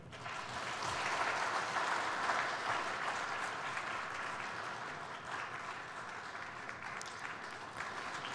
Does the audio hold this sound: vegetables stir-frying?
no